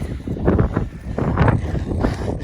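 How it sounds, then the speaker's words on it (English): Gusty outdoor wind buffeting a microphone in uneven low rumbling surges, loud and close, with no voices over it. "It's a wee bit windy."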